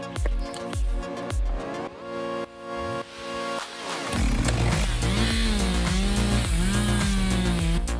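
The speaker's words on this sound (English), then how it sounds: "The sound of the chainsaw roars, echoing through the dense forest" A chainsaw revs in short bursts, then roars steadily at full throttle in a dense forest, its pitch rising and falling, loud and close.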